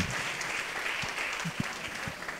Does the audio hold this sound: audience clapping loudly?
yes